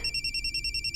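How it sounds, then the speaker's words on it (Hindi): A telephone rings with a rapid, pulsing electronic trill, close and clear, about one second of repeated ringing bursts alone with no voices. "ससुर जी का फोन है।"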